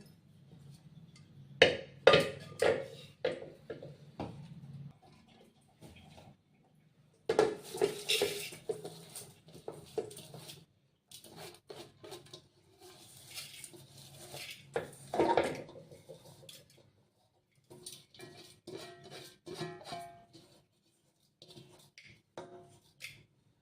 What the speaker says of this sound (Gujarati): તો હવે આપણે આને કુકરમાં નાખી દઈશું.